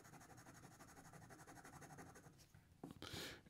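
Taccia Miyabi fountain pen with a fine nib scratching across paper in a steady, close, rhythmic series of strokes, with slight feedback texture, ending in a few louder, brighter swipes.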